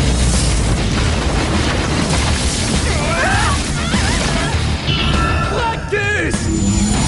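A cartoon supersonic detonation attack bursts out as a loud, sustained roaring blast, with bright swooping tonal effects rising through its middle and no pause in the noisy rumble.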